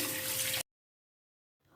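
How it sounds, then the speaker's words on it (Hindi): Cold water pours from a tap over boiled noodles in a strainer, a brief steady splashing rush that cuts off abruptly, followed by silence and a faint return of sound. "ठंडा पानी ऊपर से लगा लेते हैं"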